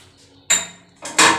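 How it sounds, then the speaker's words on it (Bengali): A metal spoon stirs jujube (kul) pickle with ground spices and jaggery in a cooking pot, giving two short bursts of close scraping and clinking with a quiet pause between them. "মশলাটা দিয়ে খুব ভালোভাবে কুলের মধ্যে আমি মিশিয়ে নেব"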